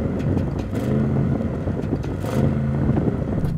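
An Audi RS6 with sports exhaust revs hard during a stationary sound check, a loud, close engine roar rising and falling twice against some wind noise.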